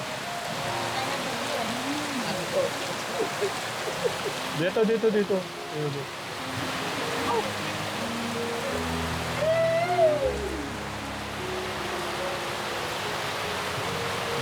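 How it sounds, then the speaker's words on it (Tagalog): Heavy rain pours steadily outdoors near trees, a continuous broadband hiss with people talking over it throughout. "Lakas po ng ulan."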